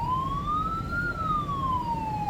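An emergency vehicle siren being tested wails, sweeping slowly up and then back down in pitch, loud and steady over a low rumbling background.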